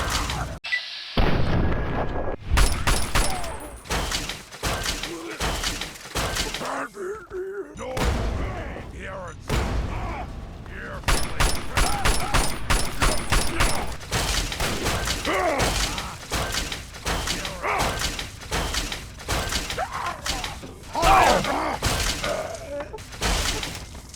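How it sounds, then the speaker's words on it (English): Victory Rifle firing at super mutants in Fallout 3, sharp repeated gunshots with impacts and shattering bursts, some rapid clusters, loud and close alongside intermittent speech. "also put the Victory Rifle to the test against the mutants"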